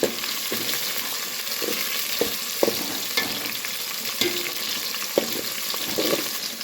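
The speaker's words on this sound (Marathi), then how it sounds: "आता हे सगळं भाजून घ्यायचं आहे" Onion, tomato and curry leaves fry in a pan under a constant sizzling hiss, with a utensil tapping and scraping the pan in a loose, repeated rhythm close by.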